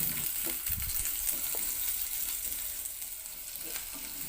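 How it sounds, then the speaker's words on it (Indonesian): Shallots and garlic sautéing in hot cooking oil, a steady close sizzle and crackle that runs continuously with occasional stirring scrapes and no voices. "Tumis bawang merah dan bawang putih hingga layu dan aromanya harum."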